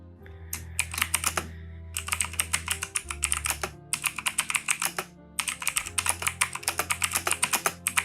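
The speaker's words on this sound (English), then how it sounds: "He's typing, folks. I'm pretty sure he's typing." Rapid clattering keystrokes on a computer keyboard in several bursts separated by brief pauses, close and crisp, with a steady low hum underneath.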